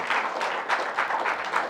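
An audience applauds during a political speech on India's development, a steady crowded patter of clapping at moderate level throughout.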